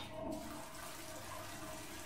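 A toilet flush in the SOMA video game, a quiet, steady watery rush that carries on evenly through the whole stretch.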